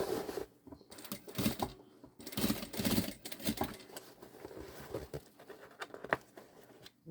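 A sewing machine stitches a synthetic-fabric drawstring backpack in bursts of rapid mechanical patter, starting and stopping several times at moderate volume with no talk over it.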